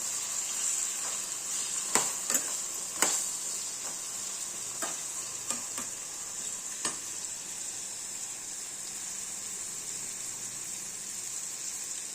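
Brinjal slices fry in hot oil with a steady bright sizzle, broken by several sharp pops and crackles early on that thin out later; no voices.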